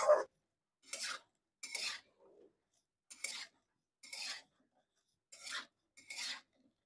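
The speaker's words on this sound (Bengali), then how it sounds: "সবকিছু খুব ভালো করে মিক্সড করে নেব।" Curry ingredients, including onion, garlic and dried red chilli paste, being mixed for a dried lotte fish curry, heard as seven short scraping and rubbing strokes with brief pauses between them, close and fairly faint.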